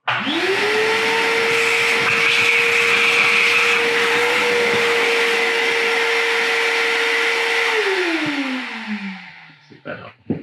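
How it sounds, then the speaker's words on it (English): A vacuum cleaner runs loud and close with a steady whining hum and airy roar for several seconds, then winds down as it is switched off, followed by a few clattering knocks. "Vacuum it out."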